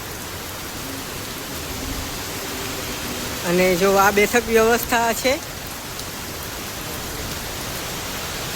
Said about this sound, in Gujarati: વરસાદ અત્યારે આવી રહ્યો છે